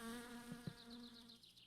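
An insect buzz, a wasp or fly, drones through a video game set in Finland, with a wavering whine that rises and falls close by, continuous over a low hum.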